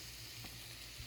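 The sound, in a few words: beef and onions dry frying in a pan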